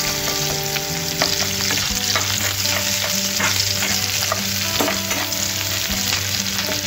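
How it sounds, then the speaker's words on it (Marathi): Onions fry in a pan, a continuous close crackling sizzle with steady popping and occasional clinks from stirring, heard alone without any talking. "जास्त फ्राय करायचं नाही कांद्याला।"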